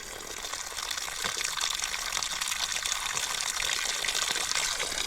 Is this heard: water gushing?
yes